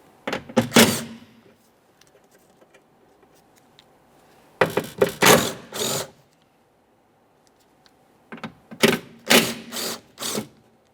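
Mounting bolts on a 2015-2019 Subaru Outback rear power window regulator are loosened with a ratcheting tool, in three close bursts of rapid clicking separated by quiet pauses.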